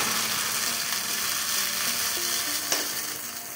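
Ground corn for makai chevdo fries in hot oil with garlic and asafoetida, giving a steady close sizzle throughout, with one brief stirring clink near the end.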